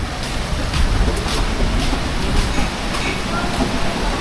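Strong typhoon wind roaring steadily and close, a dense broadband rush with gusting swells throughout, with a voice faintly present under it.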